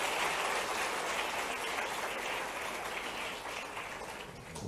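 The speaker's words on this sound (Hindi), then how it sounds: "ताली वाली बजा के बताओ अगर पसंद आया तो बात।" Steady audience applause at a Bhopal state scholarship distribution event with the Madhya Pradesh chief minister, a dense, even wash of clapping that carries on throughout and fades a little toward the end.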